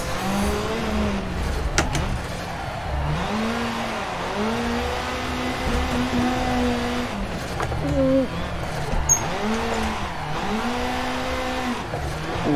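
A drift car's engine revs hard under power on the Nordschleife, rising and falling in repeated surges with brief tyre squeal, loud and close, with a voice exclaiming over it.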